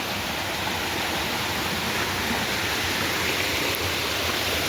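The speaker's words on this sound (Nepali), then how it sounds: "यति साह्रो पानी आउनु थालेछ" Continuous broadband rush of a fast-flowing stream, steady and even with no pauses, fairly close and filling the whole stretch.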